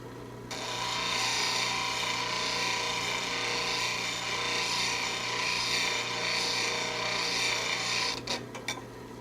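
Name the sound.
grinding a skew lathe chisel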